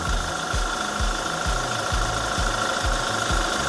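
A Toyota Hilux Conquest engine idles at close range with a steady, even, rhythmic pulsing hum that runs continuously with no voices.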